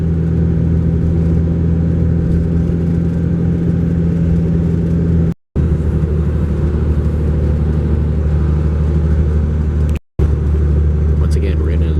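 A car travels through a long road tunnel in Japan on the way to Rusutsu, giving a steady, enclosed engine and road rumble that stays loud and even throughout, with two very brief dropouts.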